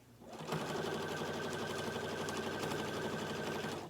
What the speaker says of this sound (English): Keep rolling it and just stitching down the middle.